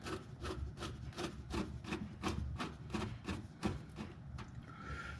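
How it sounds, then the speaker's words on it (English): A Phillips screwdriver undoes an inner fender fastener to reach a car battery, giving a run of rhythmic scraping, ratcheting turns, close and fairly quiet, with no talk. "I've got a Phillips screwdriver here, and I'm going to undo this one right here"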